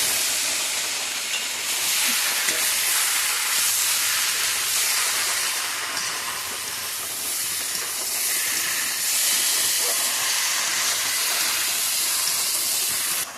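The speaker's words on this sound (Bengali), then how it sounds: "এই যে মশলা কষানো হয়ে গেছে, এখন কুচি মাছ আর আলু ঢেলে দিলাম।" Small chopped fish and potatoes hiss and sizzle loudly after being tipped into a pan of fried spice paste, a steady close frying roar with no talk over it.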